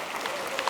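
A short burst of steady applause from a crowd at an awards show, dense and continuous throughout.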